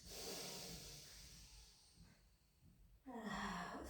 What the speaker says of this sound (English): deep breath in through the nose